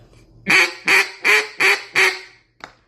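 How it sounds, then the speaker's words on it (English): Five quick, evenly spaced, higher-pitched quacks blown on a cut-down duck call, loud and close, followed by a brief faint click after a short pause. "Higher pitch quack."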